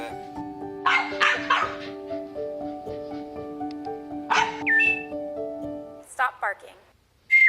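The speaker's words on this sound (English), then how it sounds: "Stop barking." A dog barks repeatedly in a home, with sharp yips mixed among sustained whistling tones and overlapping chatter, the barks loud and close in short bursts.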